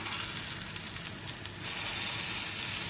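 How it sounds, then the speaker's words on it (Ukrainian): Pancake batter sizzles and crackles steadily in a hot pan, a continuous close hiss of frying with no voices. "І смажимо ось такими оладками"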